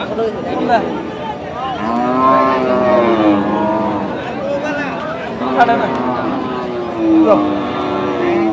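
Cattle lowing at the Nalin cattle market (haat) in Bangladesh, drawn-out moos rising and falling amid a dense crowd of voices and market bustle, mid-distance and partly masked by the chatter.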